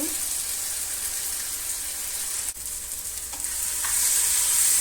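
Chopped tomatoes simmer in a pan for shakshuka, giving an even bubbling hiss that briefly dips midway and then swells slightly louder.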